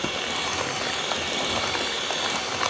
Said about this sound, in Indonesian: Kalau ini saya pakai mixer dan pakai kecepatan 3